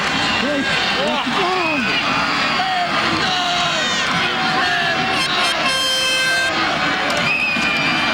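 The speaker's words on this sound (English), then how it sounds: "Well, the crowd is up on their feet now. And this is the kind of football we wanted to see. Crowd is fired up." A football stadium crowd at a high school all-star game roars and cheers continuously, with horns and whistles cutting through and an announcer talking over the din.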